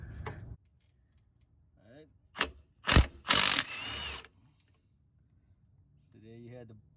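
A wrench works a bolt during a Koni shock absorber install on a C5 Corvette, making a few sharp ratcheting bursts separated by quiet gaps, with faint voice sounds in between.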